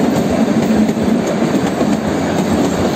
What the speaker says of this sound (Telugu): toy train